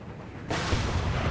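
Artillery cannon fire in the Empire: Total War battle game, a sudden loud boom that breaks in after a quiet moment and rolls on as a sustained, dense rumble of distant guns.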